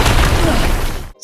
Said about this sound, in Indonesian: setelah ledakan keras yang menghantam tempat tersebut